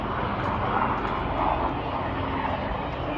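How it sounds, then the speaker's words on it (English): A small airplane taking off low along a runway, a steady broadband engine and propeller roar sustained throughout at moderate distance, with no talk over it. "Done more like a plane takeoff to avoid the birds."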